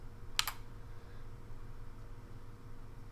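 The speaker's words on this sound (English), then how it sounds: "Oh, no, that was me. I was typing." A short burst of quick keystrokes on a computer keyboard, close and fairly crisp, lasts only a moment before giving way to a steady low room hum. No one speaks.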